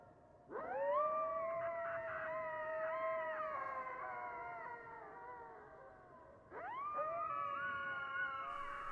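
A coyote screams and calls near a tent at night in the Big South Fork, two loud, sustained wavering howls, close and alone in the quiet.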